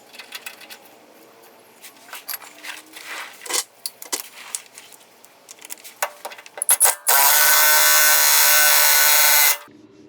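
Nut and washer being fitted onto a Chevelle pitman arm, with scattered metallic clinks and tool handling followed by a loud sustained burst of a power tool tightening the nut, close by.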